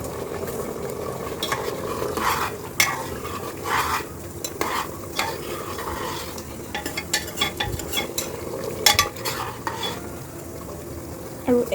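Mutton curry bubbling and sizzling in a pot on a gas stove, a steady close frying hiss with soft scrapes and occasional clinks of a spoon against the pot.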